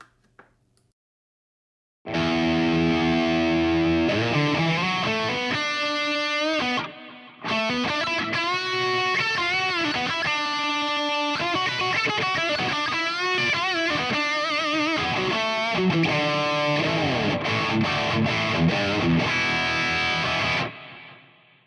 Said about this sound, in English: You can tell that there's some nice ping pong delay in there.